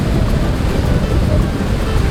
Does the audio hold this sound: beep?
no